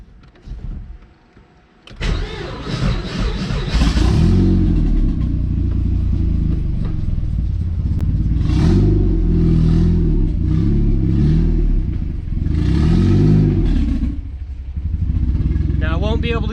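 A K-swapped Mazda B2300 pickup engine starts abruptly after a quiet moment, then runs loud and close, its revs rising and dropping repeatedly as the truck pulls away, with talk over the engine.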